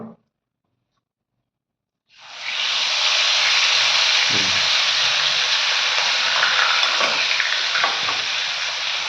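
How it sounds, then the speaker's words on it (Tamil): After two seconds of silence, a loud, steady sizzle of chicken hitting hot oil for deep-frying starts abruptly and continues, with faint clinks underneath. "எண்ணெய் காஞ்சோடனே இப்போ நம்ம வந்து கோழியை போட்டு பொரிக்கணும்"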